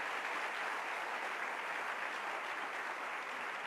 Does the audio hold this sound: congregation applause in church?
yes